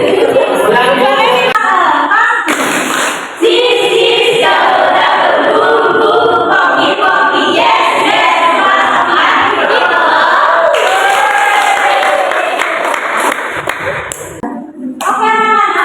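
A fourth-grade class of children clapping in rhythm while loudly chanting together in a classroom, the pattern breaking into short pauses and restarting before tapering off.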